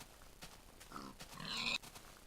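A pig grunts in the Minecraft video game, a faint short series of grunts and a brief squealing oink, quiet against a low background.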